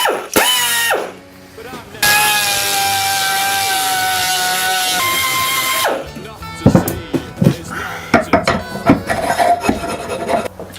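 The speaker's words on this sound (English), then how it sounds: "and then get a die grinder" A die grinder whines steadily and loudly as it grinds the teeth out of a hardened steel sprocket clamped in a vise, part of fitting a petrol engine to an electric scooter. Irregular clanks and scrapes from handling the part follow.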